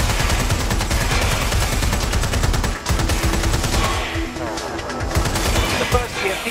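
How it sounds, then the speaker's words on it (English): Sustained gunfire in Watch Dogs: Legion, a rapid automatic stream of loud shots continuing almost without pause, with a brief break near the middle and game voices mixed in. "Roger, firing away."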